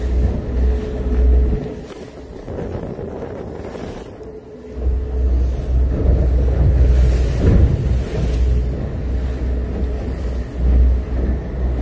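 Rough sea water slaps and washes around a Sea Ray 2500 boat under heavy wind buffeting on the microphone, giving a loud, surging rumble that rises and falls throughout, with no voices.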